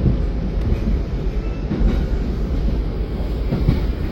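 An Argo Cheribon train rolls past Jatinegara and Cipinang, near a large locomotive depot, with a steady loud rumble of wheels on rail and faint clickety-clack throughout, no voices.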